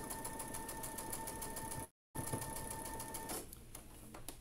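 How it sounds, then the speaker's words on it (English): A sewing machine stitching the seams of a quilt star block runs with a steady fast mechanical whir, pauses briefly, then resumes and slows toward the end, quiet and close. "We are sewing straight and I've made sure that that first seam is nested nicely."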